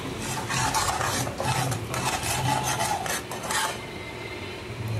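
Homemade non-veg masala sautéed slowly over low heat in a pan, with a continuous close scraping and stirring rasp and a soft sizzle underneath.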